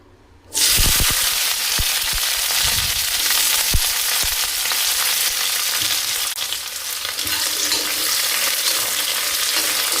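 Capsicum hits hot oil in a kadai on a stove, bursting into a loud, steady sizzle after a brief quiet start, with occasional clinks and stirring sounds over the continuous frying hiss.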